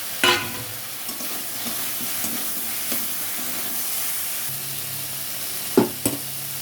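Khichuri tipped into a pan of fried spices and stirred, a steady broadband sizzle with a few sharp scrapes and clatters near the start and again toward the end, no talking.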